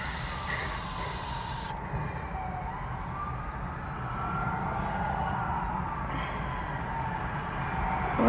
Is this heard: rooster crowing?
no